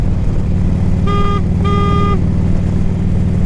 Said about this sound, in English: Listen to how loud this horn is.